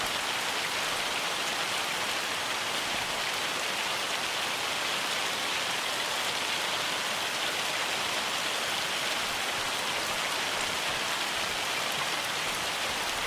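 A rainstorm in the video game Farming Simulator 25 pours down as a steady, dense hiss, loud and unbroken, with no voices.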